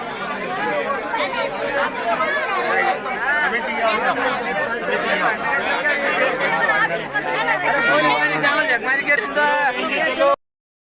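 A dense crowd gathers at the entrance gate of Trimbakeshwar temple, with loud overlapping chatter and babble that carries on continuously at close range.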